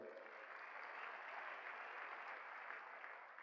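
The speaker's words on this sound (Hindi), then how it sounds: "ऊपर वाले के लिए फिर से ताली दीजिए आज" Faint, steady applause rises from an audience at a celebration event, a smooth, even sheet of clapping with no voices over it.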